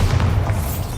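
A Bombarda blasting spell explodes in Hogwarts Legacy, a deep sustained boom with heavy low rumble filling the whole second, loud and close, with no speech over it.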